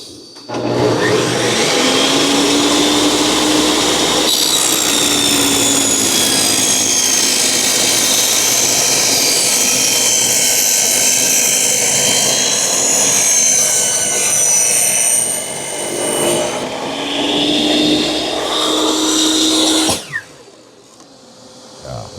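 A power saw cuts a panel for a 12-inch subwoofer box, a loud, steady whining drone held for about fifteen seconds, easing briefly before cutting off abruptly.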